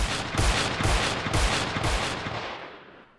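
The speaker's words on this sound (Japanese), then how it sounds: "ガンホルダーの拳銃をそのまま床に5発発砲" Five loud pistol shots fired into a floor ring out at a steady pace, each sharp crack followed by echoing reverberation that slowly fades into silence.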